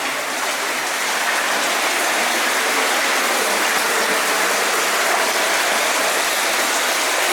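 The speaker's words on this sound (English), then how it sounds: "I can hear water flowing in, so I think there's a chamber with water draining in." Steady rushing water flows and drains into an underground chamber of a culverted Sheffield river beneath a railway embankment, a continuous broadband wash that stays even and fairly close throughout, with no voices.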